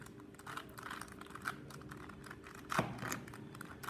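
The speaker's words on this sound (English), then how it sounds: "we will quickly give this cube a quick shuffling." A 3 by 3 puzzle cube twisted quickly by hand, giving a run of dry plastic clicks and scrapes at close range. Louder clacks come near the end, and no one talks.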